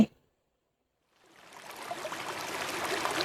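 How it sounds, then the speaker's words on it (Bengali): After a second of silence, water pours into a pot with a soft, rushing hiss. It starts faintly and grows steadily louder and fuller until the end. "একটা পাত্রে পানি ঢেলে নিয়ে নিলাম"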